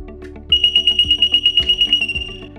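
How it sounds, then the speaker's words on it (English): A pivot irrigation control panel alarm, set off by a failed contactor, sounds a loud rapid pulsing high electronic beep that starts abruptly and continues steadily over a low background hum. "And that's gonna create an alarm."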